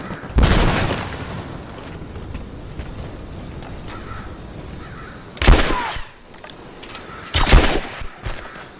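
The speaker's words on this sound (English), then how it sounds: "Throwing a grenade!" Grenade blasts in Rise of the Tomb Raider erupt as sharp, loud booms, one early burst followed by two more near the end, each with a short rumbling decay over quieter ambience.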